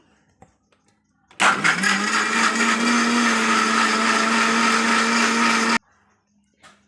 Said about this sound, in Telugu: అలా తీయకుండా మొత్తం మిక్సీ చేస్తాం కదా, మిక్సీ చేసినప్పుడు